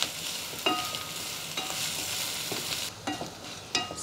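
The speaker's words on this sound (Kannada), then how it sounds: "ಒಂದು 2 ನಿಮಿಷ ಫ್ರೈ ಮಾಡ್ಕೋತೀನಿ" Asafoetida, salt and fresh coconut fry in a pan, a steady sizzle broken by several sharp spatula scrapes and taps at uneven intervals, with no voices.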